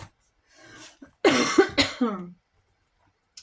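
A woman coughs in a short burst of several harsh, close coughs in quick succession, preceded by a soft breath and followed by faint quiet sounds.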